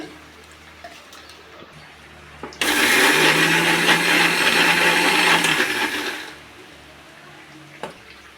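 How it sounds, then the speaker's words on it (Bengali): Sugar grinds in the jar of a kitchen mixer grinder, a loud whirring roar that starts suddenly after quiet handling noises, holds for about three seconds, then winds down into faint clatter. "তোমরা চাইলে চিনিটা আগেও গুঁড়ো করতে পারো মিক্সি বাটির মধ্যে"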